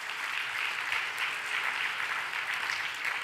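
A conference audience applauds translators, interns and volunteers, sustained even clapping from a large hall at moderate level.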